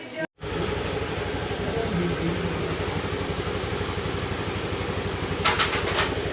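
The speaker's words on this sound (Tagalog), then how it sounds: "Yung lagitik na ganyan, ayan, normal na po yan dahil sa valve clearance yan." A freshly repaired motorcycle engine idles steadily close by, its low rhythmic pulse carrying a light mechanical ticking from valve clearance, with a brief dropout near the start and a few sharper rattles toward the end.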